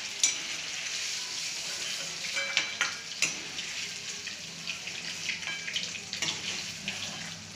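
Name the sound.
black-eyed peas vegetable frying in a pan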